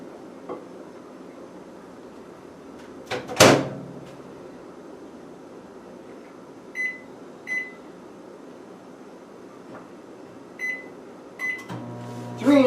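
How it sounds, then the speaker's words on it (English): A microwave oven heating half a cup of water hums steadily, with a door or latch clunk near the start, several short electronic beeps, and a closing clatter at the end. "Half a cup into the microwave to nuke it."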